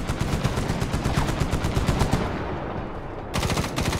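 Automatic weapon fire in the shooter game Medal of Honor (2010): rapid, loud bursts of close machine-gun shots run almost continuously, break off briefly, then resume.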